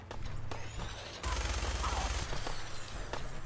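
Gunfire in Fallout 4 comes as a dense automatic burst in the middle, with scattered single shots before and after over a low rumbling background, fairly loud and close.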